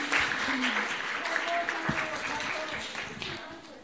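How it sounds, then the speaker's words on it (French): Steady applause from a workshop audience for a singer fills the whole stretch, with a few voices murmuring underneath. "Alors on applaudit Aïché qui va venir nous chanter une chanson,"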